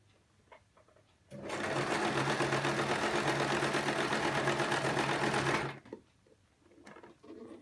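A sewing machine stitches the seam of a wrap skirt in one steady, close run of rapid, even whirring lasting about four seconds, with quiet fabric handling before and after.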